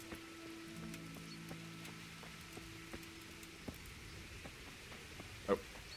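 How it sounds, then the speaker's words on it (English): Rain falls in the video game Kingdom Come: Deliverance, a faint steady patter with scattered soft drop taps and a few sustained low tones underneath. "Raining again. Lovely."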